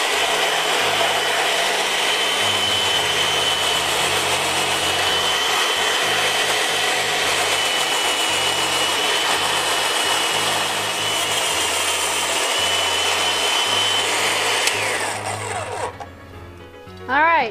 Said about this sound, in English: So just start putting the cabbage through it.